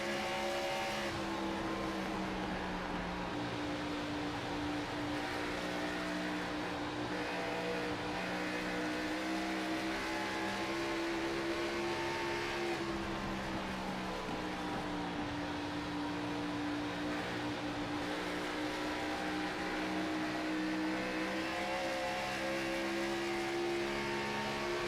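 Race car engines in a video game stock car race at Dover International Speedway, a steady, dense drone of several cars with shifting engine pitch and faint tire squeal throughout, no talk.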